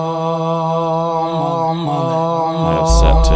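A wild granulated texture made with a Granulator plugin, a sustained buzzy tone with stacked harmonics that wobbles and shifts pitch, then bursts into a loud, bass-heavy noisy swell at the end.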